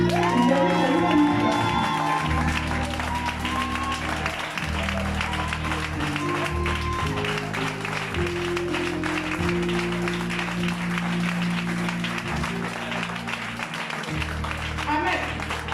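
A church congregation applauds and acclaims God during a worship service, with clapping and cheering running throughout over a sustained organ or keyboard chord, and voices mixed in.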